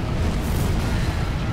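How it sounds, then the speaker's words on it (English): A bomb explosion in Dark Souls 3 with an enemy and item randomizer: a dense, loud, roaring blast that holds as a continuous rumble for over a second without fading. "There's a bomb on him. Start blowing up! Blow it up!"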